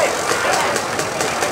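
A 1986 Honda motocross motorcycle engine at a hill climb runs steadily and loudly throughout, a continuous mechanical drone with a faint rapid pulse.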